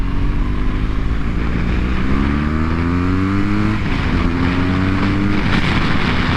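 2015 BMW R1200 GS adventure motorcycle engine pulling steadily while riding a trail, a loud, close, continuous drone whose pitch rises as it accelerates through the gears, with wind noise throughout.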